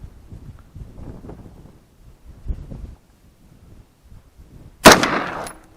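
A single loud, close rifle shot rings out while a new scope is zeroed outdoors, following several seconds of low wind rumble against the microphone, and the shot's echo trails off afterward.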